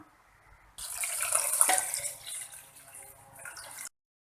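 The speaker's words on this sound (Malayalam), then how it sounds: "ആ വെള്ളം നമുക്കിതിലേക്ക് ഒഴിച്ചു കൊടുക്കാം" Hot water pours steadily into a pot of rice for prawn biryani for about three seconds, a loud splashing gush that tapers off near the end.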